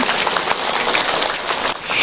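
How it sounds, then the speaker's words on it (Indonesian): An audience at a lively outdoor stage show in Karangklesem, Pekuncen claps enthusiastically, a dense, loud burst of applause filling the short moment with no voices heard. "Tepuk tangan dulu, luar biasa"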